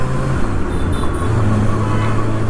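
A 2024 Kawasaki ZX6R motorcycle engine holds a steady, smooth low idle-like drone with a faint higher whine, constant and close, no voices.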